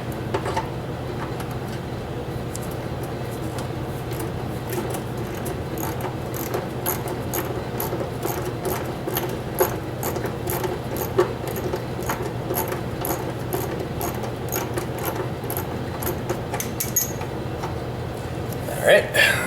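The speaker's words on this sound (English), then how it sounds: "And now we're going to switch back to the ratchet." Ratchet clicking quickly and steadily close by while loosening a 10 millimeter bolt on the chain guard of a Kawasaki KLT 200C during teardown, with a voice talking over it.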